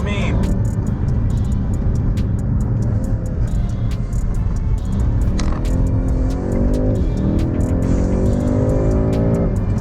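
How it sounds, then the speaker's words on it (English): A 2020 BMW M5 Competition launches hard on a wet road with all four wheels spinning, its engine roaring loud and steady, pitch climbing through the gears under a voice. "so I just launched the car, but as I said, it's wet, so 4 wheels started spinning"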